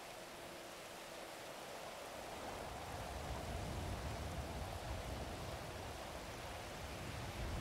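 Steady rain falling in the NoPixel GTA V roleplay game world, a continuous broadband hiss that swells slightly midway and holds even, with no voices over it.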